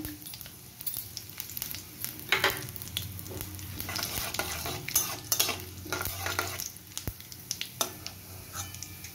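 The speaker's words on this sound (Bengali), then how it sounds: "আমার তেলটা গরম হয়ে গেছে, ফোড়নটা এর মধ্যে দিয়ে দিলাম।" Whole spices crackle and sizzle in hot oil for a vegetarian potato curry, a steady frying hiss with bursts of popping and occasional stirring scrapes, close and continuous with no talk.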